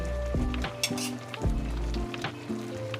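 Garlic goes back into a pan with crab and shrimp in sauce, crackling in a steady loud sizzle, with occasional metallic clinks of utensils against the pan over a humming background.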